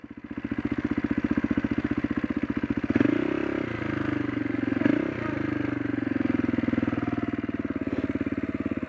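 A motorcycle engine idles with a fast, throbbing chug, then revs up twice in short surges as it tries to climb out of soft ground onto firm footing, loud and close, settling back to a rough idle between bursts.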